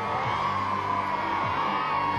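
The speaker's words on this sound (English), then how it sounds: "Give him a cheer, everyone." A television studio crowd cheering and whooping for BMX rider Scott Carroll's 540 trick in 1988, a steady wash of voices with a few yells rising out of it, fairly loud throughout.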